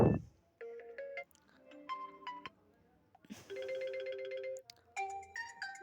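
A melodic chiming ringtone plays from a realme 3i phone: short bright tone sequences with pauses, then a sustained warbling passage and more tone runs, clear and close.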